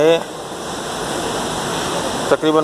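Sewage floodwater after heavy rain in Karachi rushes loudly and continuously like a torrent, with a voice talking briefly at the start and end.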